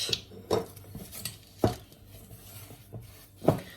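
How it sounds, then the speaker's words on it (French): A spatula working cookie dough with sugar in a bowl, a few sharp scrapes and knocks against the bowl spaced irregularly, close and fairly quiet. "Et je vais bien mélanger."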